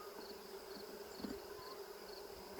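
Honeybees drone steadily on a hive frame in a four-frame nuc, a close, continuous buzzing hum with small fluctuations and no voices.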